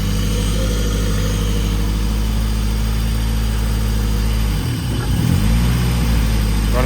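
Honda CRX running its nitrous-equipped B18 GSR engine with a new Mfactory limited-slip differential fitted, a loud steady engine drone that dips briefly near the end before the revs rise again, with no voices.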